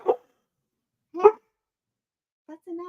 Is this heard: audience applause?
no